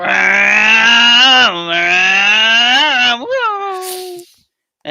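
A voice imitates a cat's meow, drawn-out and loud, with a wavering, rising-and-falling pitch over a few seconds, followed by a short breathy sound.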